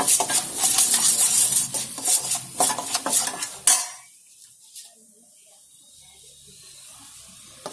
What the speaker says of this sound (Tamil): போட்டு இதை நல்லா வந்து கொஞ்சம் இந்த பச்சை வாசனை போற அளவுக்கு கொஞ்சம் நல்லா வதக்கிக்கலாம்.